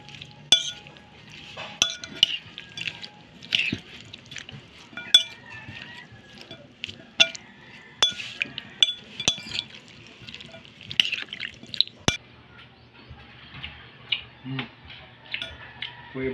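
Kinilaw of bolinaw fish being mixed with vinegar and seasoning in a bowl, irregular clinks and wet stirring taps of a utensil against the dish, close and fairly quiet.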